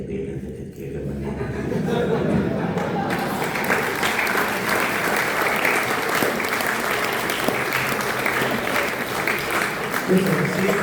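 A theatre audience at a comedy poetry recital breaks into sustained applause mixed with chuckles and laughter, starting after a brief moment of talk and continuing steadily to the end.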